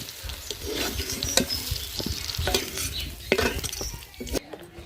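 Potato pieces fried for a cauliflower, potato and egg curry are lifted from hot oil, with a spatula scraping and clinking against the pan over a steady sizzle, close and busy throughout.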